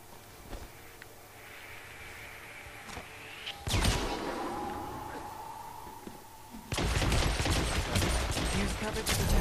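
Gunfire in the Hitman Absolution video game: scattered single shots and thuds, then a sudden loud sustained burst of rapid fire near the end, with game sounds humming between the volleys.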